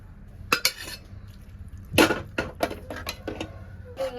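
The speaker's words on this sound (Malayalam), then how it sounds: "നന്നായിട്ട് ഇളക്കി യോജിപ്പിക്കാം." A spoon scrapes and clinks against a pot while homemade beef curry is stirred, giving sharp, close metallic knocks in an irregular series over a low background hum.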